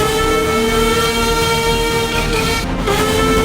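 Steam engine Donald's whistle blowing in a loud, steady sustained tone under continuous rail rumble as the engine races toward Edward's station, dragging runaway breakaway trucks behind.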